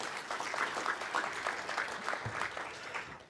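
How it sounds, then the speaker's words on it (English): Audience applause at a hacker conference, a steady wash of clapping that fills the whole stretch at moderate level with no voice on top. "Give them applause, they're amazing."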